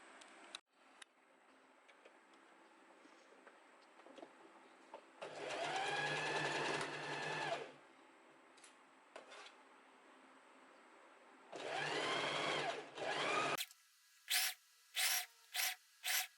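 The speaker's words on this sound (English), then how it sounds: "now we're going to start sewing from here till over here." A sewing machine stitching a summer dress runs in two quiet bursts of rapid, even whirring, separated by soft handling rustles, followed by a few short taps of the machine.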